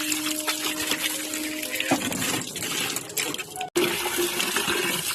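Freshly harvested potatoes are washed in water, with steady splashing and running-water sloshing throughout and no one talking.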